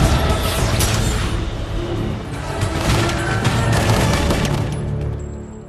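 Rapid gunfire in a film action scene, with dense bursts of shots from several directions, loud and continuous, along with crashes and impacts and no speech.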